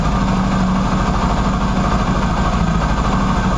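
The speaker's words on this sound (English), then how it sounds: "Notice that kind of a whiny sound, especially when I rev it up in just a second." A Qlink QBK 250 Adventure motorcycle idles after sitting unused, with a clutch needing replacement, producing a loud, steady low engine rumble with a faint whine running through it.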